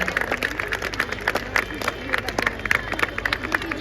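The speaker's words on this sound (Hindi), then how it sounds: "तालियां मेरे विचार से तब तक नहीं रुकनी चाहिए जब तक विजेता टीम मंच पर है" School audience at a dance competition clapping for the winning team, a busy patter of claps mixed with crowd babble, whoops and chatter in a lively hall.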